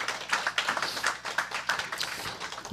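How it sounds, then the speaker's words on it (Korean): Scattered audience applause at a forum introducing the health and welfare minister: a short burst of separate claps with an uneven rhythm, moderately close, and no talking over it. "한번 박수 한번 쳐주십시오."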